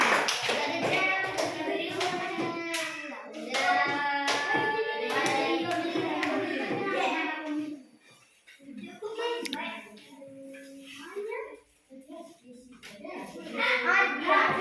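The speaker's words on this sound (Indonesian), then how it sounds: "Tepuk tangan untuk temannya." Children in a classroom clap together in a brief burst of applause, with young voices chattering around it and more talk afterward.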